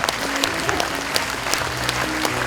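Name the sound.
audience applause at a music school concert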